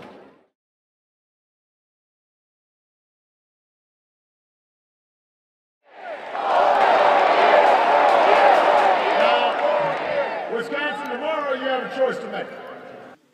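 After a long silence, a large crowd at an Obama campaign rally in Madison erupts in loud sustained cheering and clapping, fading slightly as a voice begins speaking over the noise near the end.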